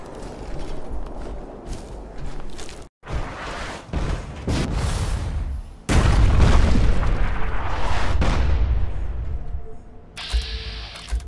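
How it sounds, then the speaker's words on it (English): Artillery shells land in Fallout 4 as a run of loud, heavy booms and rumbling blasts, several separate impacts with short gaps between them and sustained roaring debris. "that artillery did a good job, but clearly it didn't do anything"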